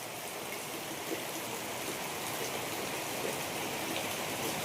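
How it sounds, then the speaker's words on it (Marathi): Heavy monsoon rain pours down outside a house, filling the courtyard and gushing from the roof edge, a dense, steady hiss at moderate volume with no voices. "काय पाऊस पडतोय बघा, मुसळधार पाऊस."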